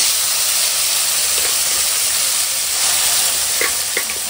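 Garlic frying in a hot pan for spinach dal: a loud, steady sizzle and hiss that stays constant throughout, close up, with a few faint clinks near the end.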